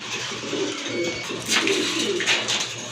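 A pair of sky-blue satin pigeons with short beaks coo softly at close range, with repeated low murmuring calls over a steady background hiss and a couple of brighter rustling bursts.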